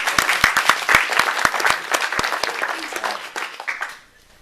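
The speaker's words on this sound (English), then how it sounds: "So another round of applause for coming for this special occasion." Wedding guests burst into loud, close applause that rings out for a few seconds with sharp individual claps, then quickly dies away to near silence.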